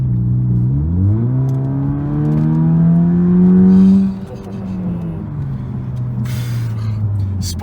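A 2015 Chrysler 200 with a 2.4L engine accelerates in sport mode, its engine note climbing steadily through a long pull, then dropping as the throttle eases and settling into a steady cruising drone, heard from inside the car.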